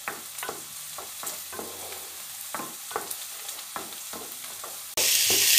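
Potatoes fry in oil in a pan while a utensil stirs and scrapes in repeated short strokes, then a loud, bright sizzle swells suddenly near the end.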